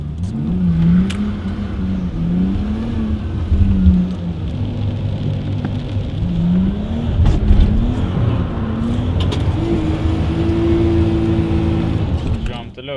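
A car drives along a road on a rainy day in Australia, its engine humming and rising and falling in pitch as it accelerates and shifts, steady and close throughout, with talking over it.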